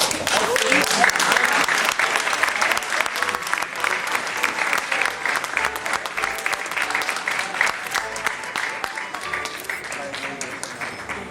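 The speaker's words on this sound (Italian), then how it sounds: "Applauso." Dense, steady audience applause fills a ribbon-cutting ceremony at a centre documenting 20th-century cooking masters, loud and sustained for about eleven seconds with scattered voices mixed in.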